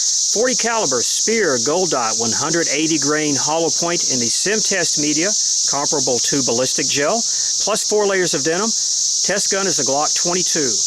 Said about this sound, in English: It's hot and we have a cicada infestation.